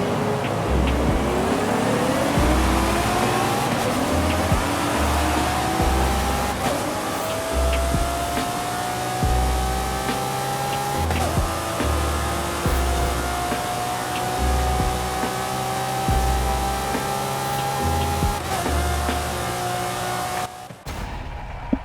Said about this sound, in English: bless your ears with this Lamborghini V12